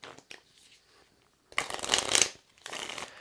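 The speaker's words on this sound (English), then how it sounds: "grab the land deck and go ahead and give it a shuffle" A deck of land cards from the board game Odin's Ravens is shuffled on a table, a few quick riffles and rustling bursts, close and clear, with no talking.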